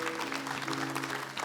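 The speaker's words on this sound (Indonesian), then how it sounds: "Kita berikan tepuk tangan sekali lagi untuk Ida" Audience applause for a contestant named Ida on a televised talent show, steady and dense throughout with a sustained musical tone underneath.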